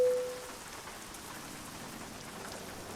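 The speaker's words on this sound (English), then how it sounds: "A little rain in Southern California." Rain in American Truck Simulator, falling steadily in Southern California near East Los Angeles, a dense even hiss of drops with no talk.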